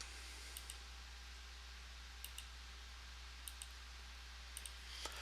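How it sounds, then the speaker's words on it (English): Sparse computer mouse clicks while working in Photoshop, single and double clicks spaced about a second apart, quiet and close over a low electrical hum. "Same way with this, just click, click, click."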